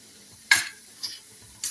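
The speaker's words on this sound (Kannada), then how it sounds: "ಇದೊಂದು ಸ್ವಲ್ಪ ಫ್ರೈ ಆಯಿತು" Vegetables for masala dosa fry in a pan under a faint steady sizzle, broken by three short stirring scrapes, the first the loudest.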